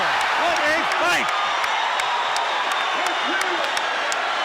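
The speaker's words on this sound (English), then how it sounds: "The crowd is on its feet." Boxing arena crowd roaring and cheering in the closing seconds of the Sugar Ray Leonard vs Thomas Hearns rematch, a dense, loud continuous wall of voices with whoops and claps, commentators talking over it.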